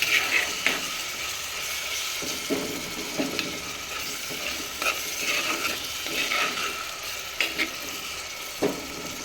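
Onions, tomatoes, green chilies and curry leaves sauté in a pan for a prawn chili curry, with a soft steady sizzle broken by scraping stirs and occasional clinks of a spoon against the pan.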